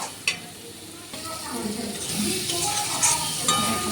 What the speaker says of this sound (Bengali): এখন আমি আলুটাকে ভালো করে কষিয়ে নেব